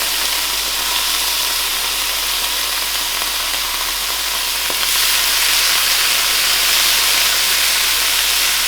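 Egg white poured into a hot pan sizzles and hisses steadily and loudly, the frying noise swelling slightly partway through, with no voices.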